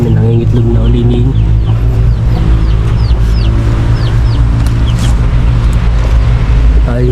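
Rhode Island Red hens clucking and calling in their pen, steady overlapping fowl sounds close by over a constant low hum, with a few short higher calls scattered through.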